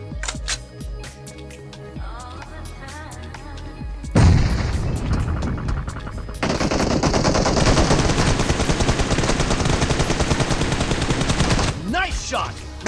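M416 rifle fire in a competitive shooter video game, with dense rapid automatic bursts filling the middle of the clip, loud and close, mixed with game effects and music.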